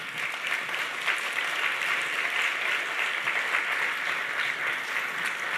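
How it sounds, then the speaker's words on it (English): Sustained, dense audience applause for tech honorees at a Bloomberg Businessweek Ones to Watch event, steady and loud throughout with no pauses. "let's give them a round of applause"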